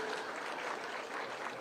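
An audience at a school feeding programme launch in Roysambu, Nairobi applauds the county chief officers and executives, a dense, continuous burst of clapping for a short moment.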